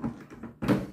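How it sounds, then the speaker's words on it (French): A Ninja Double Stack XL air fryer drawer slides back into its housing and meets the unit with a soft scrape, then a firmer knock as it seats, close and fairly quiet. "Donc, on va réinsérer le tiroir"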